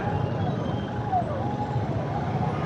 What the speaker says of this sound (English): Can hear a siren coming up as well.